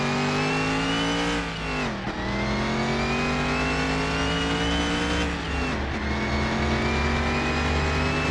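A tuned, non-supercharged car engine revving hard during a race in Car Mechanic Simulator 2021, a loud continuous drone climbing in pitch with two brief dips at gear shifts.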